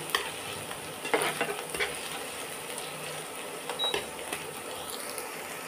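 Onions simmering in a little water in a pan while being stirred, a steady low sizzle with scattered light scrapes and taps of a spoon, close and quiet, no talking.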